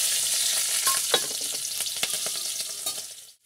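Panch phoron, bay leaves and four chillies frying in oil, a bright steady sizzle with scattered crackles and stirring clicks, close and fairly loud, ending abruptly.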